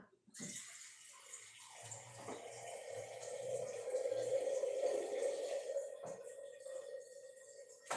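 Steady rushing stream of water poured into a cooking pot for dal on an induction cooktop, filling continuously for several seconds, close and fairly loud, then a small clink and a trailing off.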